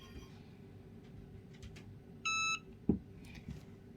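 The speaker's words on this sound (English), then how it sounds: "and it will beep once it's done." A short electronic beep from a Cricut EasyPress 2 heat press lasting about a quarter second, sharp and clear over a quiet room hum, followed by a soft thud.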